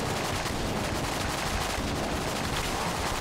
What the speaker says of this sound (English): That's one too many bullets there, Bullet King.